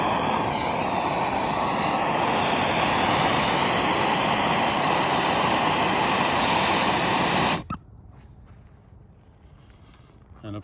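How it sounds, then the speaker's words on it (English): Torch burning a clamped composite laminate sample, a loud steady roaring hiss close by that cuts off abruptly, leaving quiet background. "We're gonna go ahead and light it up with our torch."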